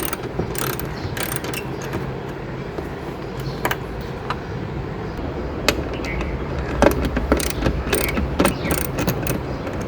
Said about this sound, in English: Then remove the bolts using a 10mm socket and ratchet.